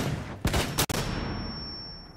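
Gunfire in the tactical shooter Rainbow Six Siege: a couple of loud, sharp shots close together early on, followed by a steady, ringing game background with no talk.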